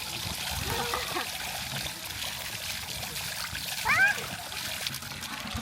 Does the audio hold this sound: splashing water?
yes